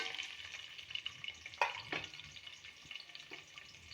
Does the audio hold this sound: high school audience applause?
no